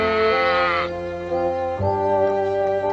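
A Barbary sheep bleats loudly and close, a long wavering nasal cry that shifts pitch midway and carries on without pause, with no voices over it.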